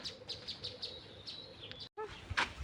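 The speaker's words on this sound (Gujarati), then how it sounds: "જો અહીંયા પક્ષી ઉડે છે" Small birds chirping outdoors in a village coconut garden, a run of quick repeated high tweets at close range, then a brief pause before a few more varied calls.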